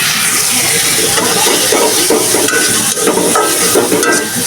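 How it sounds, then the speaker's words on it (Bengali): Shrimp stir-fry in a pan over fried onions and cooked-down spices, producing a loud, dense sizzle with rhythmic stirring and scraping throughout, and no talking. "মশলা কষানো শেষ, এখন চিংড়ি মাছগুলা দিয়ে দেই"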